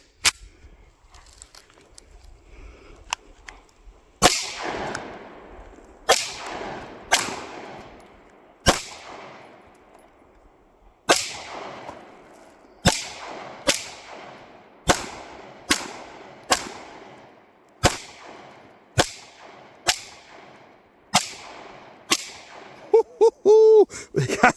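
Walther P99 pistol fitted with a 4.5-inch Jarvis threaded 9mm barrel fired outdoors at liquid-filled targets, a dozen or so loud sharp reports spaced irregularly with decaying echoes between, the last few in a quick cluster.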